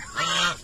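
Turkeys kept on a small farm with a nipa-roofed pen give a single short, loud, nasal honking call up close.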